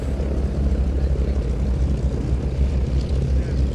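A vintage WWII fighter plane lands with flaps down, its steady propeller engine drone loud and continuous throughout, with no clear change in pitch.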